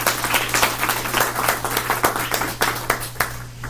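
Audience applause at a children's forum event, steady clapping from many hands with a few sharper individual claps standing out, filling the whole stretch without speech.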